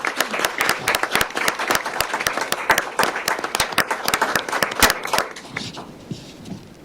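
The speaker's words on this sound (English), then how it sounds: "Please join us in giving them a round of applause for their outstanding achievements." Audience applause for students at a county commissioners meeting, a brisk sustained round of many hands clapping close by that thins out over the last couple of seconds.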